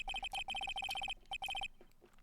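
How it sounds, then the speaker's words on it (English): A cellphone ringtone from the Ace Attorney: Justice for All video game rings in quick, bright electronic bursts, repeating steadily for about a second and a half before stopping, clear and alone with no talk. "We are going to call my phone right now."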